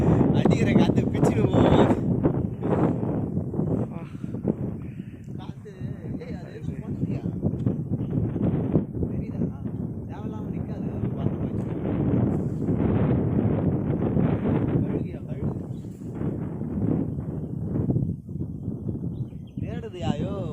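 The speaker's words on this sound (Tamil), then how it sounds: "அடிக்கிற காத்து பிச்சு" Strong wind gusts buffet the microphone at a hill viewpoint in the Kolli Hills, a loud continuous rumbling roar that runs through the whole stretch with little letup.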